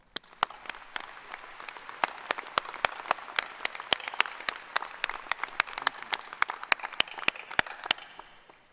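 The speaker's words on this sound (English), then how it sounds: "may I ask that we recognize the staff with a round of applause" Commencement audience applauds university staff: sustained crowd clapping with sharp, loud individual claps close by punctuating a dense wash of hands for several seconds.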